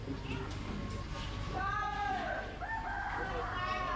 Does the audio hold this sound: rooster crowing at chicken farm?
yes